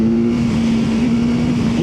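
BMW S1000R motorcycle engine revving past 6,000 rpm, a loud sustained high-revving drone with a steady engine tone.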